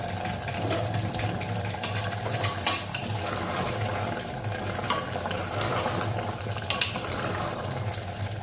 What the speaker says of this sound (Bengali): তো ওইদিকে মশলাটা কিছুটা সাতলানো হচ্ছে